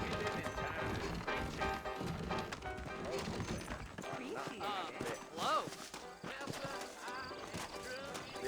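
Horse hooves clip-clop beneath a busy game soundtrack in Red Dead Redemption, with steady mid-level footfalls mixed among music, speech and scattered thumps and knocks.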